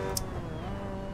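A Mazda MX-5 in the Assetto Corsa racing sim, its engine giving a steady droning hum with no talk over it, held at an even level for just over a second.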